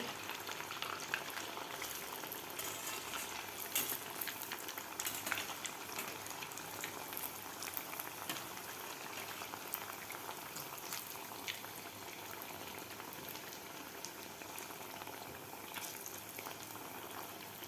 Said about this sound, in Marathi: मिडियम हीटवर आपल्याला हे आतमध्येपर्यंत तळलं पाहिजे